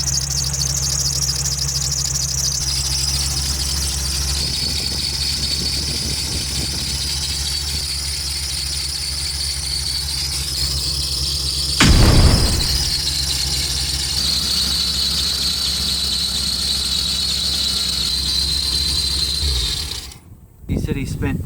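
A rebuilt carbureted V8 car engine with excessive blow-by runs roughly at a steady idle with a high squealing whine, a brief louder surge midway, and voices talking nearby before it cuts off near the end.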